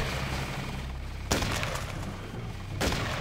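Enemy gunfire in Deus Ex, two sharp loud shots about a second and a half apart cutting through a steady noisy rumbling background.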